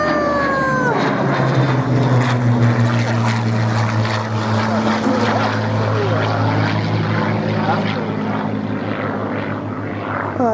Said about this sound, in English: What is this little guy doing? This little plane here.